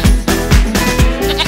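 Goats bleat loudly and close by at a livestock market in Quetta before Eid, several wavering cries in quick succession with no talk.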